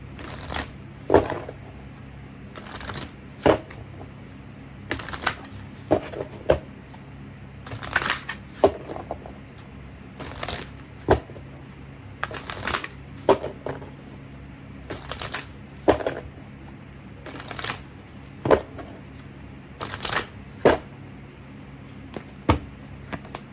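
Animal oracle cards are shuffled in repeated bursts, each riffle a sharp papery flutter, recurring about every second or two over a quiet room with no talking.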